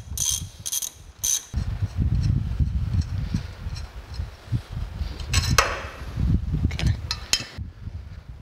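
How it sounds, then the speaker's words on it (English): A ratchet wrench clicks in quick bursts while bolts are removed during disassembly of a steam locomotive stoker engine, close and mechanical, with metallic handling and scraping between the ratcheting runs. "Go back to a ratchet where I can get them on and off now."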